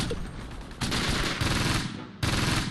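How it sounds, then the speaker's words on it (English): Sustained machine gun fire in the World War II strategy game Close Combat, Normandy 1944: dense, loud overlapping bursts with sharp onsets, continuing without pause. "They're drawing machine gun fire."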